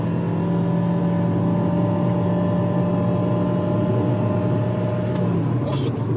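A BAIC X55 SUV with a CVT accelerates as a steady, loud drone of engine and road noise rising gradually in pitch, heard from inside with a voice briefly in the background.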